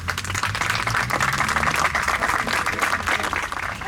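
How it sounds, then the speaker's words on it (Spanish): An audience bursts into sustained, dense applause at a tribute event honouring Eva Perón, many hands clapping steadily and evenly for the full few seconds with no talk over it. "Un aplauso."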